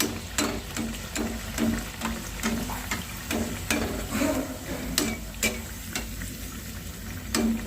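Green pea kachori deep-frying in hot oil, a steady crackling sizzle with a fairly regular series of sharp clicks from a utensil or spatter, close and unaccompanied by speech.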